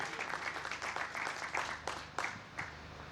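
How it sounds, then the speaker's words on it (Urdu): An audience at an awards ceremony in Sialkot, Pakistan claps to welcome a guest to the stage. The applause is a dense, moderately distant burst of hand claps that thins toward the end. "بھرپور تالیوں سے استقبال کیجیے گا"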